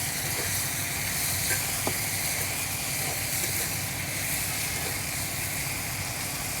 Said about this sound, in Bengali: ফুলকপিটা সুন্দর করে ভেজে নিলে খেতে সুন্দর হয়